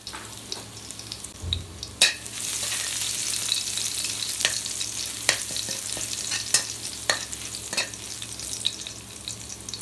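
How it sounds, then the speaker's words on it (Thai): Garlic sizzles in hot oil while a spatula scrapes and clacks against the pan in irregular strokes, close and clear. "ตั้งกระทะใส่น้ำมันลงไปน้ำมันร้อนค่ะ ใส่กระเทียมลงไปคั่วกระเทียมให้หอมค่ะ"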